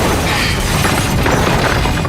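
A massive film explosion blows out the glass wall of a shopping mall in Dawn of the Dead (1978), a loud, dense roar of blast and shattering debris that fills the whole moment without letup.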